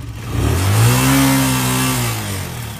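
A motorcycle engine revs up loudly nearby, rising in pitch and holding a throaty roar before easing slightly.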